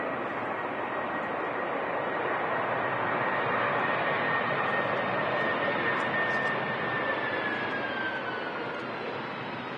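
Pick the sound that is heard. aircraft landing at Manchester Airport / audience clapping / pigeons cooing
aircraft landing at Manchester Airport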